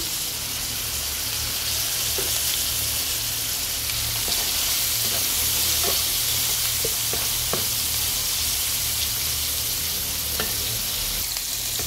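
Plantain slices sizzle steadily in hot oil in a pan, a close, continuous hiss with occasional soft pops and light utensil clicks and no talking.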